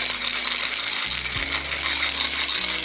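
A pepper grinder being twisted over a pot of mild chili, a steady run of dense ratcheting crunches close up, with no talking.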